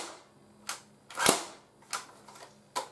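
A CYMA AK47 airsoft AEG fires single semi-auto shots, four sharp snapping cracks spaced unevenly over a few seconds, the third loudest, each standing alone against a quiet background.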